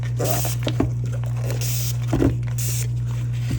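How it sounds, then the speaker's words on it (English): Alcohol sprayed from a spray bottle into a resin mold: three short hissing bursts, close by, over a steady low electrical hum. "Let me spray some alcohol down in there."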